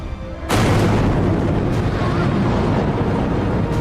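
A gunpowder blast destroying the 55-metre Bamiyan Buddha statue in Afghanistan erupts suddenly after a brief lull, a loud deep boom that sustains as a heavy rumbling roar to the end.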